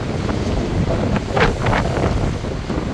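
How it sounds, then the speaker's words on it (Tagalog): Strong wind roars steadily across the microphone on the North Shore of Bermuda, with gusts swelling and buffeting near the sea. "napakalakas ng hampas ng hangin"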